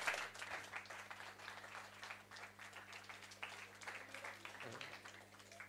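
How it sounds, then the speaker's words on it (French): An audience at a French book conference applauds, steady clapping from a modest crowd heard at some distance with a low constant hum underneath, fairly faint throughout. "Encore une petite salle d'applaudissements est nécessaire."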